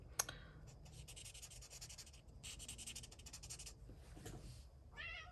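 A cat meows several times in the background of a quiet room, with faint rustling and scratching nearby; the cries are soft and drawn out, the clearest coming near the end.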